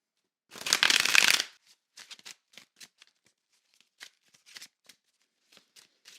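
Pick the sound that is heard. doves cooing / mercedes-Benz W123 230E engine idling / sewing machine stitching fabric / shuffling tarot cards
shuffling tarot cards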